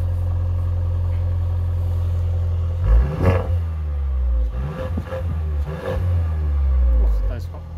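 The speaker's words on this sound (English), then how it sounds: "I'm going to go to the back of the car so you can hear the exhaust" A 2018 Mercedes-Benz GLA 180 idles with a low exhaust drone, then revs several times in quick bursts, the rumble rising and falling close to the tailpipe while someone talks.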